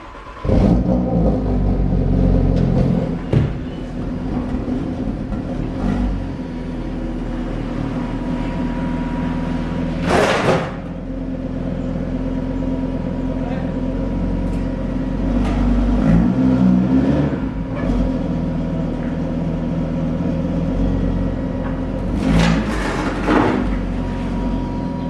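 A 2017 Audi RS3 engine idles and rumbles steadily with a deep exhaust note, rising in a few brief revs, nearby with no talking.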